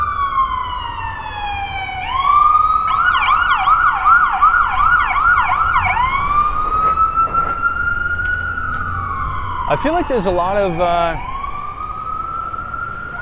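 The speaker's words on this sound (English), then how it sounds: "activity tonight with the ambulances" Ambulance sirens wail, rising and falling repeatedly, then a rapid yelp pattern cuts in, loud and nearby over steady traffic rumble on a Manhattan street at night, with a person talking underneath.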